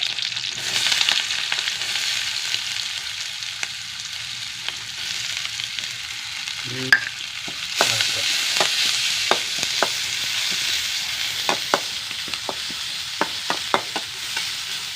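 Onion sautéing in a pan with garlic and small green chillies, a steady hiss of frying throughout, broken by sharp scraping clicks of a spoon stirring, clustered near the end.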